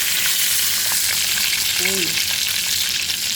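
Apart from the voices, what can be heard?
morcon frying in a little oil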